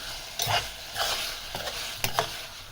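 Onion cooks with tomatoes in a pan for momo chutney, a soft sizzle broken by several scraping stirs of a spoon, close and alone with no voices.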